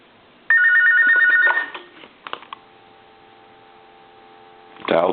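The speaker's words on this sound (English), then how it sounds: "I'll go ahead and ring line 1 one time more" A Sony IT-M10 two-line telephone gives one short electronic ring burst, then goes quiet apart from a faint tone. A bit of handling noise follows near the end.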